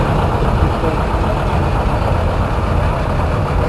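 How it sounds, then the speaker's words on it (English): A 1954 John Deere 70D tractor engine runs steadily at an idle-like pace, a loud, continuous mechanical rumble with no voices over it. "Next up we have Jacqueline Rawlins on a 1954 John Deere 70D."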